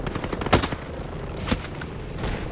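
Gunfire in the video game Ghost Recon Breakpoint: a few sharp, loud shots crack out in quick bursts over a dense, busy battle background.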